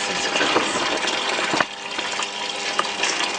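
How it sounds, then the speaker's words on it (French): Water rushes steadily into a calibrated 5-litre bucket from a pipe test rig during a flow-rate measurement, a continuous close gushing fill with a few brief splashes and no talk. "On va chronométrer la durée nécessaire pour remplir le seau de 5 litres."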